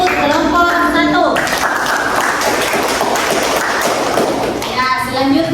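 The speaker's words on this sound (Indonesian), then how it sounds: "beri aplaus untuk kelompok 1" Classroom applause for a student group, dense rapid clapping filling most of the stretch at close range, with children's voices and a melodic tone at the start and end.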